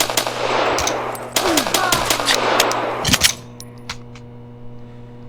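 Rapid gunfire bursts from the video game Black Bag, loud and close, with crisp repeated shots over a steady hum. Scattered single cracks follow as the firing thins out.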